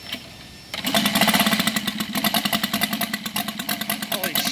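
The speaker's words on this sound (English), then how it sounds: "about to start up his five-cylinder rotary motor" A UMS five-cylinder radial engine on a 1/3 scale model triplane starts after a brief quiet lead-in, then roars close and loud with a rapid, steady firing pulse that settles into a throbbing, slightly uneven run.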